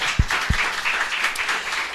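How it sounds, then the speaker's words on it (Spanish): A church congregation applauds during a Sunday service, a steady wash of many hands clapping, with two low thumps near the start. "Dele un aplauso al Señor por esta palabra."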